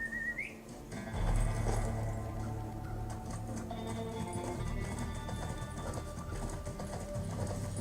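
Horse hooves clip-clopping in a video game played on a Tronsmart Vega S89 H Android TV box, a steady, even trot heard throughout alongside a brief whistle at the start.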